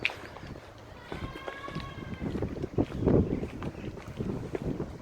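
Strong gusty wind buffets the microphone outdoors in a continuous roar that swells and surges, with brief faint tones briefly rising over the rush.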